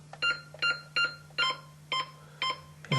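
A Honeywell burglar alarm keypad gives seven short, evenly spaced beeps as a code is keyed in, close and clear over a low steady hum.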